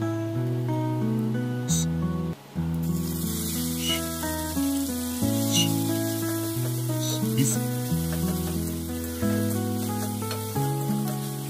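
Onion paste sizzling in a pan of hot oil with dried red chillies and cumin seeds, a steady bright hiss running under loud music.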